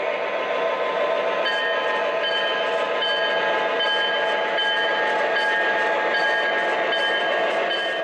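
A small model train hums and rattles steadily along its track, with a constant whirring drone and faint periodic clicks.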